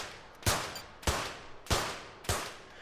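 Four sharp shots fired in an even rapid sequence, each a loud crack with a brief decaying tail, from an Olympic shooting event in a London 2012 video game.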